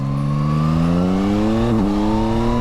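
Yamaha Tracer 9 GT motorcycle accelerating hard, engine note rising steadily and loud, with a brief dip in pitch from a quick-shifter gear change before climbing again.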